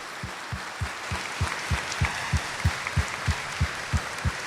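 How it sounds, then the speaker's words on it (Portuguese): A church congregation claps together in a steady, evenly spaced rhythm during Mass, about a dozen loud unison claps over a soft room hum. "Dê uma salva de palmas para Jesus"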